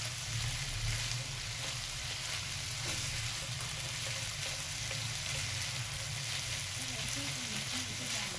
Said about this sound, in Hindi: देखिए कैसे सुलसुल आवाज आ रही है